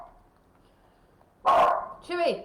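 Chewy the dog lets out a loud, close bark followed by a higher yip, after a quiet stretch and a person calling the dog's name.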